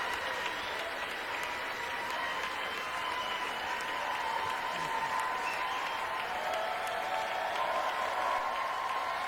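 A large audience at the State of the Union fills the hall with sustained applause and crowd cheering, dense and steady throughout without a break.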